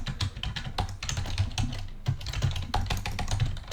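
Someone types rapidly on a computer keyboard in an office setting, a dense stream of close, crisp key clicks running steadily throughout with no one speaking.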